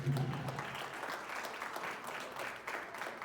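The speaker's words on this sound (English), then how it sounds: "Let's give her a round of applause for Brother Chloe." An audience at a 90th birthday celebration applauds steadily, a dense even patter of clapping that carries on throughout without a break.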